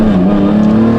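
A manual-swapped, rear-wheel-drive Lamborghini Murcielago roars loudly and close as it accelerates hard, the engine note steady and strong throughout.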